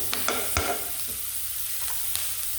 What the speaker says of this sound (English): butter is hot. I'll put in some onions there.